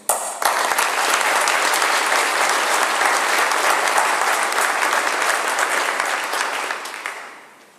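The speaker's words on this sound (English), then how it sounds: "Dr. Timothy Killen, just hold your applause" Dense, steady applause from a large audience at a university convocation and investiture ceremony, sustained at full strength before tapering off and fading out at the end.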